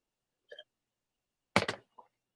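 A single sharp sneeze bursts out close by after a brief soft sound, then a faint murmur follows in an otherwise quiet room.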